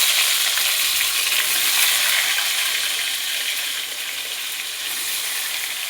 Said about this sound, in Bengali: এখন আমার তেলটাও গরম হয়ে গেছে,